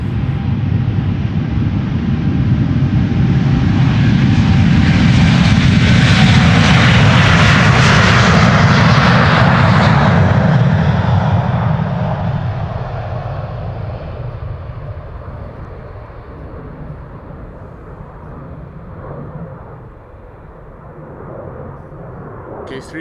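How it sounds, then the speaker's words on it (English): A KLM Boeing 787-10 Dreamliner at Amsterdam Schiphol spools up its engines, a loud, close, broad roar that builds and swells for about ten seconds, then gradually fades and recedes into a lower rumble. "A KLM flight 601 to LAX 78710 Dreamliner is spooling up."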